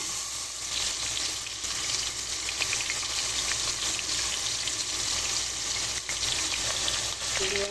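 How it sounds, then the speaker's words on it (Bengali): Onions frying in oil in a deep cooking pot give a steady, fairly loud broadband sizzle that runs unbroken throughout, with no talking. "তেল দিলাম ডেকর মাঝে, পেঁয়াজ দিলাম"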